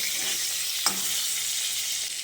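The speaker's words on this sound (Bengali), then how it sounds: "এদিকে দেখুন ততক্ষণে পটলগুলো খুব ভালোভাবে ভাজা হয়ে গেছে।" Pointed gourd (potol) frying in oil, a steady close sizzle and hiss running throughout, with one brief stir or clink of the utensil partway through.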